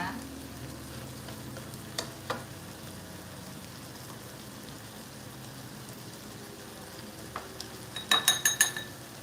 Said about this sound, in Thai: เดี๋ยวผัดบวบสุกก่อน ผัดบวบสุกก่อนนะคะ